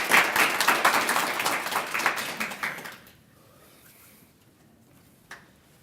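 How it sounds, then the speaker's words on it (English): An audience claps loudly for about three seconds, then the applause cuts off into near silence, broken by one faint tap. "Give him a round of applause."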